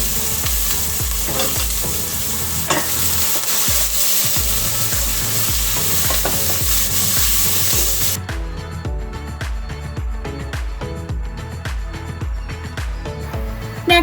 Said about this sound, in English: adding some olive oil to a pot, placing my onions in there to get them sauteed up and soft.